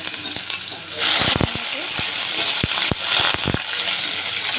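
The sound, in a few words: onions frying in hot oil in a pan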